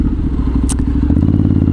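A group of motorcycles on a Christmas charity ride rumbles along together, a steady loud engine drone with dense low pulsing, one brief bright clatter partway through.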